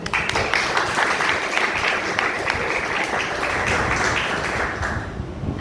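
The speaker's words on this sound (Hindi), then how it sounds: "परमेश्वर को तालियां दें।" Church congregation applauding together in a dense, steady wash of clapping that holds loud for several seconds before easing slightly at the end.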